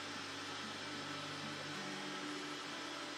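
A hair dryer blows in a steady, loud, broadband whoosh while hair is being styled with a cushion brush, its tone shifting slightly midway.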